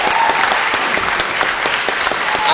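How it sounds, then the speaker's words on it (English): A studio audience at a Welsh talent show applauds a performer named Erin, with brisk, continuous clapping that is close and fairly loud and holds evenly throughout. "can I have a round of applause for Erin"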